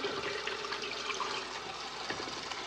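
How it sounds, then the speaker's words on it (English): Water gushing steadily into a pot of peeled Yukon yellow potatoes, a continuous splashing, hissing pour up close with no talking over it. "And let's put some water in there."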